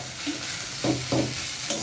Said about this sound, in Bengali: এবার খুব ভালো করে এটাকে ভাজতে হবে।